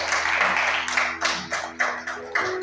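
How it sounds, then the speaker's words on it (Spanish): A church congregation applauds during a sermon, a loose run of sharp claps close by that rise and fall in several quick bursts against a soft background hum. "¿Le das un aplauso a Dios por eso?"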